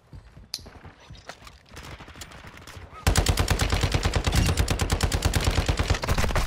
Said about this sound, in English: What is the firing rate on this hemlock?